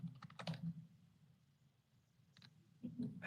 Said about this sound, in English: I think I'm typing the symbol wrong